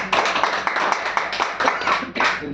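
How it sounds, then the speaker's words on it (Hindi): Audience clapping at a direct selling company gathering, a dense, steady patter of many hands held at an even level for a couple of seconds with a brief dip near the end. "आप सभी अपने लिए एक जोरदार ताली"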